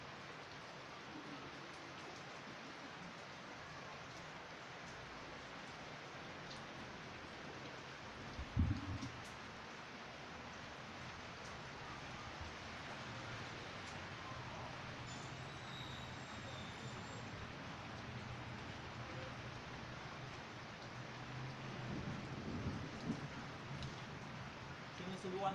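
Steady outdoor rain, recorded through a BOYA BY-MM1 microphone, forms a continuous, even hiss throughout, with one brief low thump near the middle and a slight swell toward the end.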